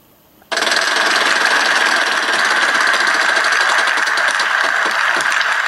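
A Wheel of Fortune wheel spins in an iPad game with a steady, loud, dense whirring rattle. It starts abruptly and runs unbroken to the end.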